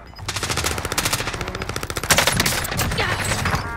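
Rapid automatic gunfire from a Call of Duty: Modern Warfare match, a dense stream of loud, close shots in quick succession with overlapping bursts and no talk.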